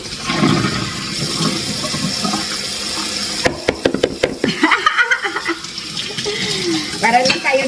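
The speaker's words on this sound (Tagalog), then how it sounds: "itapon muna natin yung unang tubig" Water is dumped out of a basin after blanching water spinach, a loud gushing splash that rushes and spills for several seconds, with people chatting and laughing around it.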